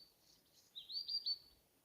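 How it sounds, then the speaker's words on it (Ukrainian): A small bird gives a few faint, high chirps at dusk in a quiet outdoor setting, brief and distant with near silence around them. "але пташечки настільки гарно співають"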